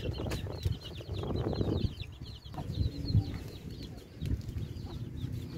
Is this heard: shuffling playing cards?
no